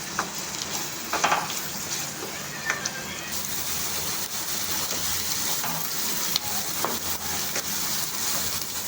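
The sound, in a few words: frying onions and green chillies with bay leaf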